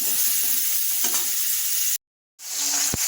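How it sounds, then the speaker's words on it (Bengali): Cauliflower pieces fry in a wok, giving a bright, constant sizzle up close with a soft stir or two, interrupted by a short moment of total silence before the frying noise returns. "ফুলকপিটা ভেজে নেবো"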